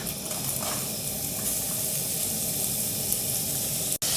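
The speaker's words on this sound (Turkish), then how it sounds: "Doğradığımız soğanları, arpacı ve baharatlarımızı bu şekilde kavururken" Onions, orzo and spices sautéing in oil in a pan, a steady continuous sizzle and hiss that runs unbroken and fairly close, with no voices over it.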